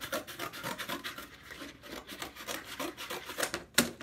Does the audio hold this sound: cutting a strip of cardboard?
yes